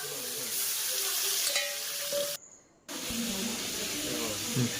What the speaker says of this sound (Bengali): এখন আমার কড়াইয়ে তেল দিয়েছি তেল গরম হয়ে গেছে মাছগুলো ছেড়ে দিলাম